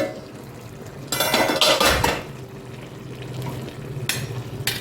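Lid and ladle clatter against a pot of chicken biryani made with home-style parboiled rice, with metallic scrapes and knocks as the rice is stirred, loudest in a burst near the start and again at the end, no talking.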